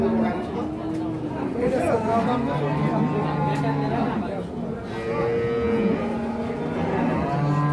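Holstein Friesian cows at a livestock market in Lakshmipur moo repeatedly, several long low calls overlapping through the whole stretch, set against steady crowd chatter and people talking nearby.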